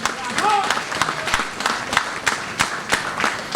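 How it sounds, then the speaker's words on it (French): Audience applause for the Prime Minister at a ceremony honoring 31 years of work for Haitian women's rights, a steady patter of claps lasting a few seconds with some voices and crowd murmur mixed in. "je vous demande un applaudissement pour le Premier ministre"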